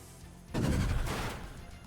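A single gunshot from the sci-fi strategy game Age of Wonders Planetfall, a sudden loud burst with a short ringing tail that fades over about a second and a half.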